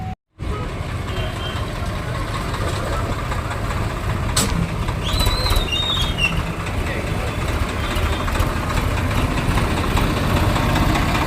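A Swaraj 744 XT tractor with a broken clutch shaft idles nearby, a loud steady low diesel rumble with a few brief metallic clicks and chirps over it.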